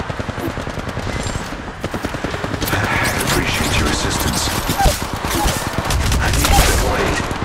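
Rapid automatic gunfire from a shooter game, Apex Legends Mobile, rattles in dense bursts for the whole stretch, loud and close with echoing shots layered over one another, while a player's voice cuts in over the action.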